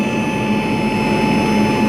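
An air blower machine driving air circulation for a biofloc tilapia pond, running with a loud, steady, unbroken roar and a constant high whine, close and alone.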